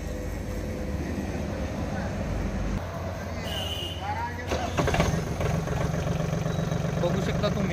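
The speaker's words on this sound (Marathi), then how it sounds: "मी आता तुम्हाला ट्रॅक्टर चालू करून दाखवणार आहे। ट्रॅक्टरचा फायरिंग पण तुम्ही ऐकू शकता।" A Swaraj Target 630 tractor with a Yanmar engine cranks and starts about halfway through, then settles into a steady close idle, with someone talking over the engine.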